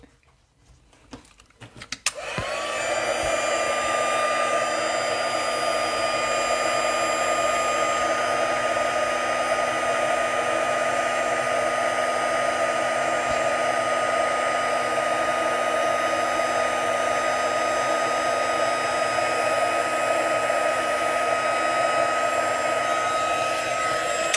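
Steady, loud blowing whir of a heat tool held close while heat-embossing a handmade craft card over an old mat, starting after a brief click and running continuously without a break.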